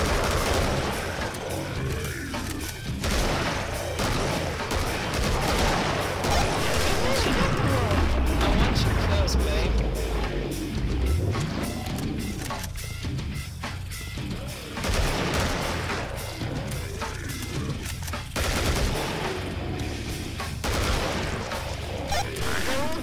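AK rifle in the video game Killing Floor firing in rapid bursts, dense and continuous throughout amid other in-game combat noise.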